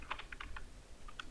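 Soft clicks of typing on a computer keyboard, a quick irregular run of close, quiet keystrokes with short pauses between them.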